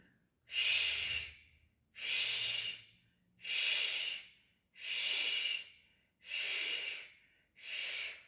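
Six evenly spaced, breathy exhalations in a breathing-gymnastics exercise, each a soft airy hiss about a second long, close and quiet with pauses between them.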